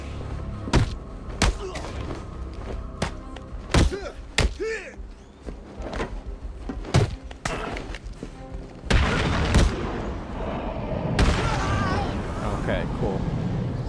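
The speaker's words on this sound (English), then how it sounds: "It's an explosion." Explosions and heavy thuds in the Batman Arkham City video game, with several sharp booming impacts spread through the passage and a dense, louder burst of blasts near the end, mixed with game sound effects.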